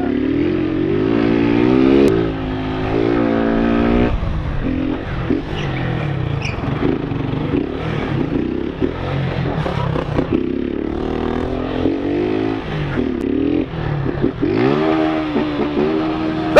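A Honda CBR600RR motorcycle pulls up close and loud, its engine note rising and falling through repeated revs with rough, rasping bursts over a steady idle.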